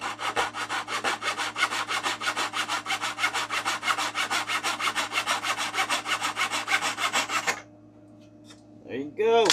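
A hand saw cuts a wood cap strip for a Great Planes Ultra Sport 1000 model airplane wing, with quick, even back-and-forth rasping strokes close up that stop abruptly, then a brief rustle.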